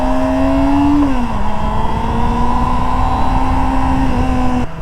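A 2024 Kawasaki ZX-25R SE motorcycle engine screams loud and close at high revs, the pitch dipping briefly on a clutchless kick-shift before climbing steadily again.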